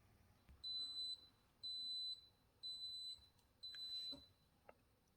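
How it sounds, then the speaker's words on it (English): Four evenly spaced electronic beeps, each about half a second long, high-pitched and fairly quiet, with faint room noise between them, from a Cuisinart DCC-1220 12-cup coffee maker signalling brewing is done. "So it's going to beep 4 little beeps to let you know when it's done brewing."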